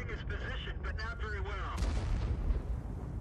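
A tank cannon fires in World of Tanks with a heavy boom partway through, set in dense game noise and rumble, while someone talks over it.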